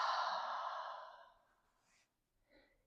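A single slow, deep exhale during prenatal labor-prep breathing, long and soft, fading out, then a faint brief breath at the end.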